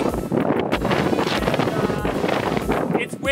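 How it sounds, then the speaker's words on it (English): Strong wind roars steadily in a sandy desert canyon at Arches National Park, buffeting the microphone with continuous low rumble and gusts throughout. "it's windy as."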